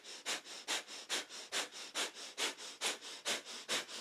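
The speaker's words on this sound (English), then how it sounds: "breath of fire is our panting breath through the nose" Breath of fire during a kundalini yoga practice: rapid, even panting through the nose, a long steady train of sharp sniff-like breaths, close and clear, about three per second with no talking.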